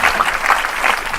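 Audience applause during a talk, a brief, loud burst of many hands clapping close by and evenly sustained.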